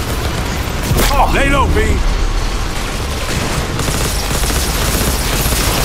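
Rapid, sustained gunfire rages through a Cyberpunk 2077 DLC shootout near a cooling tank, loud and dense throughout, with a shouted voice cutting in briefly over the barrage.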